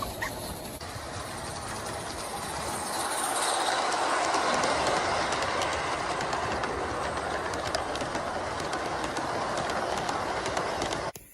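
A garden-scale model USRA 0-6-0 steam locomotive by AML AccuCraft runs outdoors, its wheels producing a steady, continuous rolling clatter with occasional squeal, while birds chirp in the background.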